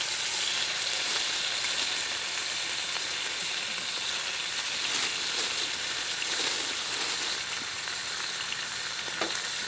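Rashers of bacon frying in a pan for a full English breakfast, cooked outdoors at a carp fishing lake: a dense, steady sizzle close by that holds without a break, with no voices.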